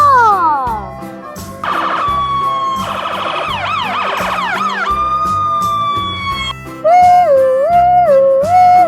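Toy ambulance siren blares up close, cycling through several electronic wail and yelp patterns in quick succession, loud and shrill with brief gaps as the tones switch.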